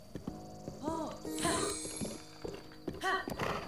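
Clip-clopping hooves of a horse in Zelda: Breath of the Wild, with a neigh or whinny, mixed under game music and a person talking.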